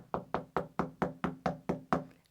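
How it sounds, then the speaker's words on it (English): Eight even raps on a wooden door in a bedtime-story setting, a steady knock-knock rhythm of sharp close hits that each die away quickly, with no voices. "And then there came a knocking"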